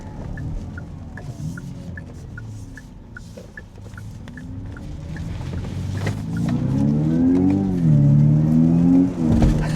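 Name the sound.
Kia EV6 GT car being driven and accelerating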